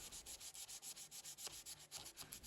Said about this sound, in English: going over the rounded over edges with sandpaper to balance out some minor edges and flat patches